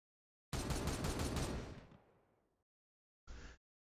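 Gunfire in the strategy video game Warhammer 40,000: Regicide: a loud, sustained rattling burst that fades out over about two seconds, then a short, sharp second burst after a brief silence.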